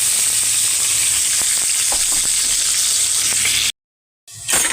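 Chopped onion and green chillies sizzle loudly in hot oil with mustard seeds, a dense, steady crackling hiss that cuts out briefly near the end before resuming.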